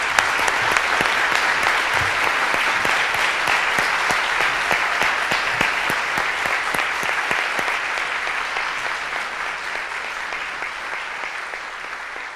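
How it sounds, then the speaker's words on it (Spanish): Sustained audience applause for performers at a university lecture session, a dense steady wash of many hands clapping, loud and continuous throughout with no speech, easing slightly toward the end. "Un aplauso para ellos de nuevo"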